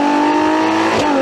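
A hypercar engine revs hard past 9,000 RPM on a downshift kick-down, a loud, close, continuous high-pitched howl with a sharp blip near the end.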